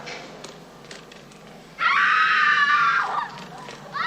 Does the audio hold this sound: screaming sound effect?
yes